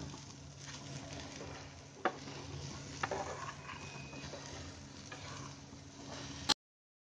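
Sugar filling for bread kachori is stirred in a pan over a medium gas flame until the sugar melts. A faint, steady sizzle carries a few soft scraping ticks, with no one talking.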